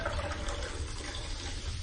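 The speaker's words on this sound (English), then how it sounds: "Sarah tries to pour herself some more soda, but Meg stops her" Soda poured into a glass during a quiet domestic film scene from Panic Room: a steady, close, low fizzing liquid stream running throughout with no pause and no voices.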